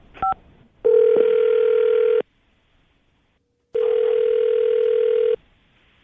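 A telephone handset plays a quick keypad tone followed by two long, steady ringback tones separated by silence, loud and clean while a call to a listener is being placed.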